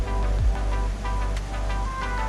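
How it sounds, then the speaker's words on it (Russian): Steady broadband rush of falling water from a small artificial waterfall at Iguazu Falls, a continuous splashing roar without pauses, fairly close. "они тут такой небольшой водопад соорудили"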